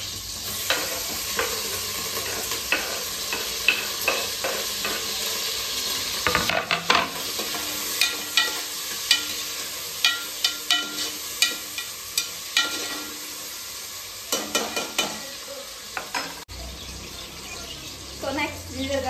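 Onion, potato and green chili fry in a pan for a peas and potato rice dish, a soft steady sizzle broken by repeated scraping strokes of a stirring spoon, with a brief burst of running water midway.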